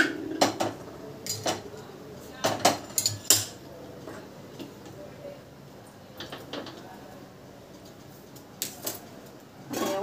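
An iron griddle lifted off a home stove and a kadhai set down in its place, heard as several clanks and metallic knocks of cookware, some close and sharp, with quieter shuffling between.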